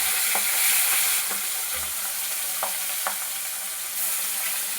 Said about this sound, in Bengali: এখন মাছ ভাজছি, দই কাতলা